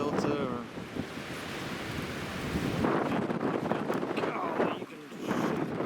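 Strong wind gusts roar across an open outdoor trapline site in Texas, blowing sand and dirt, a steady broadband rush that swells louder in the second half, with someone talking intermittently over it.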